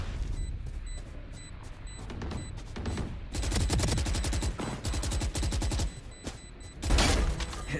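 Rapid automatic gunfire from a Valorant match, bursts of close, loud shots with short gaps, then a final heavier volley, with no talking.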